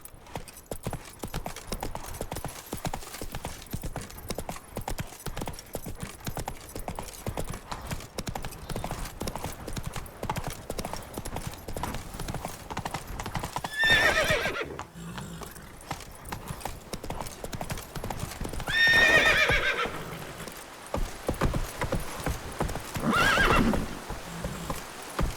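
Hooves of the horse Roach galloping in The Witcher 3: Wild Hunt, a steady rapid clip-clop with neighs and whinnies breaking through, loud and continuous throughout.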